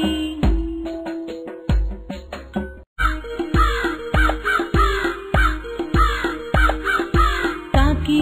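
Repeated harsh crow caws ring out in a steady rhythm over a sung melody with instruments, loud and close throughout.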